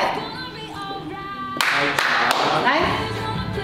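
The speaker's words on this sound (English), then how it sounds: "Clap." Participants in a morning aerobics class clap their hands: a few sharp, loud claps in rhythm, set against upbeat exercise music and an instructor's voice.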